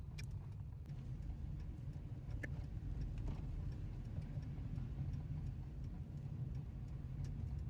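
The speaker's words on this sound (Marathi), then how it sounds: "आणि ट्रॅफिक" Steady road traffic rumble near Amboli, with cars passing continuously in a low, even drone and occasional faint ticks, no voices.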